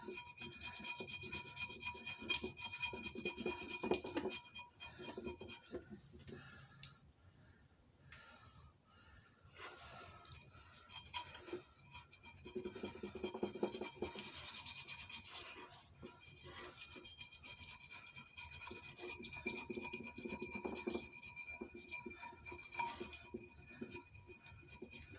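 Old gasket material being scraped off the rear Dana 44 differential cover of a 2003 Jeep Wrangler TJ: close, steady rasping and rubbing strokes repeating for the whole stretch, with a short pause partway through.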